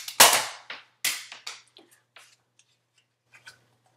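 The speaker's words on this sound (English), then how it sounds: "I'll just do a really quick test shooting." A modded Nerf NiteFinder toy blaster fires a test shot with a sharp plastic snap, followed by several smaller clacks and rattles, close and loud, tapering into quiet.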